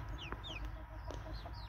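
Pekin hens and a rooster in a farmyard pen make short, scattered clucks and chirpy calls, fairly close over a steady low background hum, with no voices.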